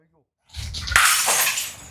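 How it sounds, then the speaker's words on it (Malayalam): A dull knock is followed by a loud, close crash of a thrown glass smashing in an Australian smash room, shards scattering briefly. "ഗ്ലാസ് വെക്കുന്നു, എറിയ, അടിക്കുക."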